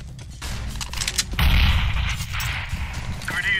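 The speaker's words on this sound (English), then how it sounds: "Throwing flashbang." A flashbang grenade goes off in a CS:GO match, a loud burst with a bright hissing crack over a noisy background of game sounds and muffled talk.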